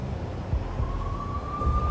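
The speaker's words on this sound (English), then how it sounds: "The NYPD was closing in. I could hear the sirens. Their wail was a crescendo." A police siren from NYPD cars in the video game Max Payne, a single rising tone that climbs slowly and steadily over a low rumbling background, moderately loud and not far off.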